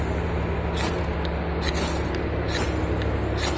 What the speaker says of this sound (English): So now, when I want to throw some sparks